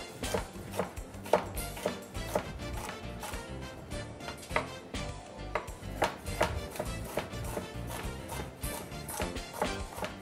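Knife chopping bell pepper on a cutting board while goulash soup is prepared, giving a steady run of quick, close woody taps and thuds for about ten seconds, with no talk over it.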